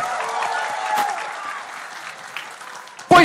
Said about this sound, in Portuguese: Vocês já receberam com a salva de palmas